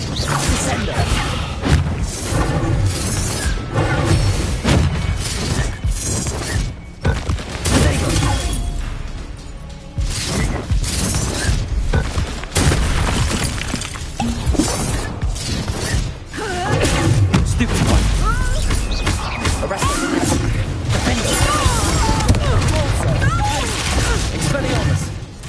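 Descendo spell combat in Hogwarts Legacy: loud crashes, smashes and whooshes stacked over a game score, with frequent heavy impacts and a shouting voice over the battle.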